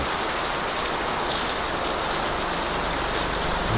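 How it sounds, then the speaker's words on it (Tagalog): Heavy typhoon rain pours down steadily, a dense, loud hiss of drops hitting surfaces with no letup and no voices. "Lakas ang ulan."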